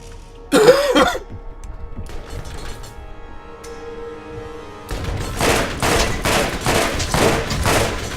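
Gunfire in Borderlands 1. A cough and throat-clearing come first, then a quiet stretch. In the second half, a loud rapid string of repeated shots with a steady rhythm runs to the end.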